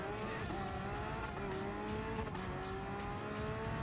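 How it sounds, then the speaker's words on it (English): Porsche 911 GT3 RS in Gran Turismo Sport, launched hard into a wheelie: a loud, close engine drone holds high revs throughout, its pitch slowly shifting with faint tire squeal on top, no voices. "get a little bit of speed, and then just slow down, and then pin it at around 15 or 20 miles an hour, and it will do a wheelie"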